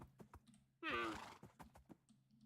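A Minecraft horse wearing horse armor lets out a loud, wavering whinny that lasts about half a second, set against faint clip-clop and tapping sounds.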